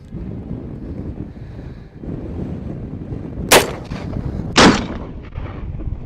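Two sharp, loud shots about a second apart from an M1 rifle firing .30-06 150-grain soft point rounds outdoors, heard over steady wind buffeting the microphone.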